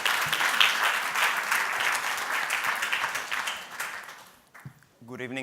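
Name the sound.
audience applause for a pitching startup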